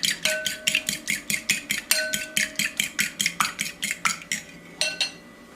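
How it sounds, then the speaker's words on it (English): Whisk or spoon clinks rapidly and steadily against a bowl as ingredients with cinnamon and nutmeg are mixed, roughly twenty close, bright strikes in an even rhythm with no talk. "And then we'll mix it some more."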